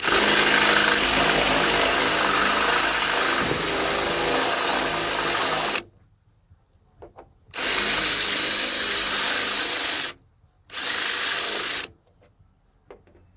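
An electric drill whirs loudly in three bursts, the first long and the next two shorter, with quiet gaps between.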